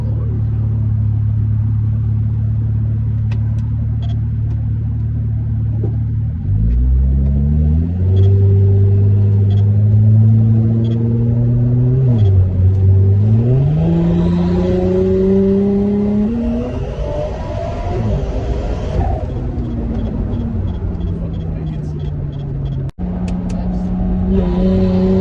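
A 700+ horsepower car accelerating hard on a test drive, engine pitch climbing through several rising sweeps with gear changes between them, loud and close from inside the cabin.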